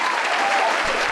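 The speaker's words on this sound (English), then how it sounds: "Let's get an applause there" Applause from a crowd at a comedy show, a dense steady wash of clapping that fills the clip and sounds close and loud.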